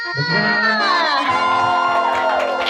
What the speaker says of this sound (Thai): ขอบคุณสำหรับนะคะเสียงปรบมืออันกึกก้องด้วยนะคะ